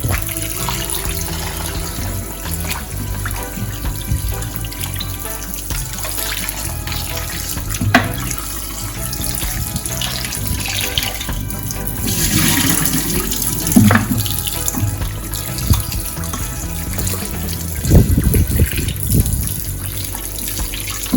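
Tap water runs steadily into a sink while meat is washed under it for a simple home-cooked meal, a continuous close splashing stream with occasional louder splashes and shifts in flow, no talking.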